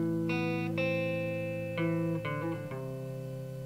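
Two electric guitar parts from a song layered together, the original riff plus a supplementary riff, sounding as clear sustained plucked notes and chord changes in a steady pattern with no talking.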